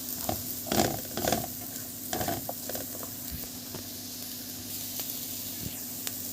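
Onions being stirred with a little flour in a hot frying pan for a light piccata base, with a steady sizzle and a few scraping spoon strokes near the start, close and moderately loud, with no talk.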